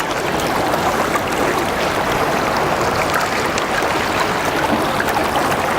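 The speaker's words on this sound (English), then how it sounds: "Let's pan this out." Gravel being panned for gold in water, a steady close wash of sloshing and trickling water with fine grit rattling throughout, continuous and fairly loud with no talk.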